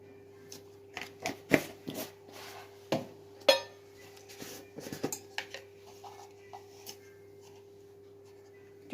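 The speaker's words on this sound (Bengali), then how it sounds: "আমি এখন ডালটা ভালো করে ফেটিয়ে নেব।" A whisk or spoon taps and clatters against a bowl while soaked beuri dal batter is beaten, in irregular clinking strokes with pauses, close and fairly quiet over a steady hum.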